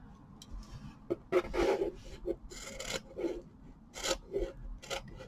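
Scissors trim embroidery fabric just out of the hoop, close up, making a series of short crisp snips and rasping cuts in irregular bursts.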